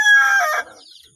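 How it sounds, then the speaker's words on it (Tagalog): A native chicken gives a loud, close, single drawn-out call that quickly fades, heard alone without talk. "meron kasi akong bagong alagang manok."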